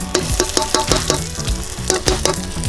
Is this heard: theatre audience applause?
no